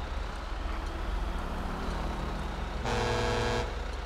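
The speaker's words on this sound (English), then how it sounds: "Okay, the honk has been made." Car horn honking in a police game set on a repossession job, one sustained toot of under a second rising sharply over a steady engine and traffic rumble, close and loud, with no talk.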